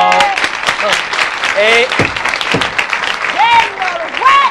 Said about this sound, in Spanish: ¡Un aplauso para el señor juez!